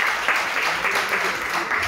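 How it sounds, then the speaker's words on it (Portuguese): A church congregation at a Portuguese-language worship service claps in steady applause, close and fairly loud throughout the short stretch. "Isso, aplauda o Senhor"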